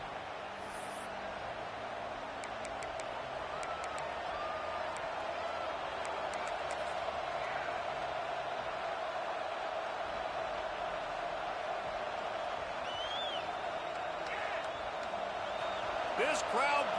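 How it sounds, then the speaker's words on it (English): A stadium crowd at a college football game keeps up a steady, distant roar of cheering and noise, with occasional whistles and shouts rising out of it. "This crowd bringing the energy and noise early."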